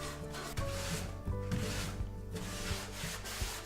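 Steady scrubbing and rubbing over the dry timber of a Hutton log store as old dust and dirt are cleaned off, a continuous close, soft abrasive sound with a few faint knocks.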